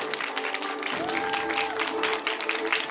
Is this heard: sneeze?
no